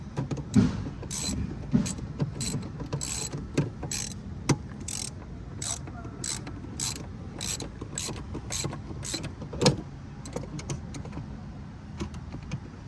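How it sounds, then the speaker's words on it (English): A ratchet clicks in quick bursts while loosening a bolt with a T50 Torx bit on a Dodge Charger being stripped for drag racing, with a few pauses between the runs of sharp, close metallic clicks. "Take this, you're gonna loosen this bolt up."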